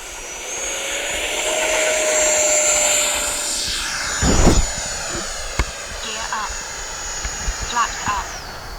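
An FMS F-18 Super Hornet 70mm electric ducted-fan RC jet spools up with a high, steady whine and a rising rush of air as it rolls for takeoff. The sound swells to a loud peak, then fades into the distance.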